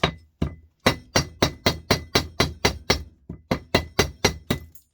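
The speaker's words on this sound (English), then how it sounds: "hit it with a hammer" A rapid series of sharp hammer taps on plastic during scrapping, about fifteen strikes in a fairly steady rhythm with one short pause, close up and loud, with no talking.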